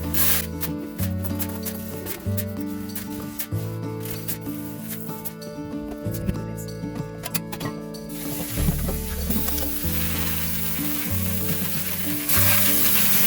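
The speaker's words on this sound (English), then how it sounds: "we're just washing them off so that if there's any dirt or debris from harvest" Water pours steadily over dried beans in a colander as they are rinsed for borracho beans, a continuous close, full hiss and rush of running water with a faint hum beneath and no talk.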